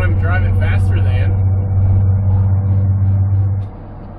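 A 1990s Ford OBS truck with 232k miles cruising on the interstate past another vehicle, its steady low engine and road rumble droning throughout with a swell near the middle before easing off, while someone talks over it.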